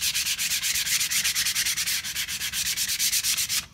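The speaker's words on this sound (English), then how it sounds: "After the file, just sand it" Rhythmic back-and-forth rasp of sandpaper on cigar box guitar wood, loud and close, about six strokes per second in a steady even pattern with no talking.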